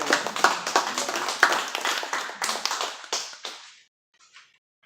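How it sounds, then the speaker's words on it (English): Church congregation applauding at a Mothering Sunday service, a close burst of brisk clapping that thins out and stops, followed by a couple of faint stray claps in near silence. "Applause is absolutely appropriate."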